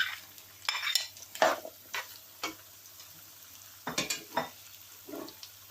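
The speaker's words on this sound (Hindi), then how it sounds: "अब हम पोटैटो जो ऐसे बारीक बारीक कट किए हैं स्लाइसिस में, ये डाल देंगे" Thin potato slices tumble into a hot pan for a keema samosa and spring roll filling, bringing scattered clinks and scrapes of a spoon against the pan over a faint sizzle; no one speaks.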